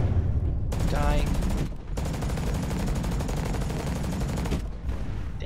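A submachine gun in the mech shooter Hawken fires in sustained rapid bursts, loud and close, with a short pause between two long strings of shots and a voice briefly heard at the start.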